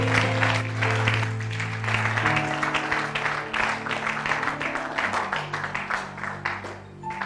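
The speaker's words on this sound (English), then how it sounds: "Keep clapping for Jesus." A church congregation claps and applauds steadily during a worship service, loud and close, with held musical tones sustained underneath throughout.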